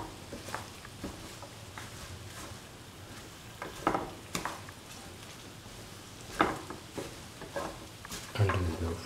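Chicken with mint and cilantro leaves stirred in a pan over a low flame, soft steady sizzling with irregular scraping and clinking of the spoon against the pan, under a faint voice.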